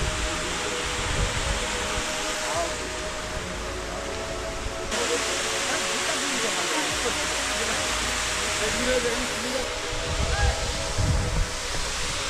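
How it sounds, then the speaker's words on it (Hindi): Water rushing over the dam at the lake in Matheran hill station, a steady, loud, broadband roar that runs continuously without pause. "लेकिन पानी की आवाज़ आ रही है।"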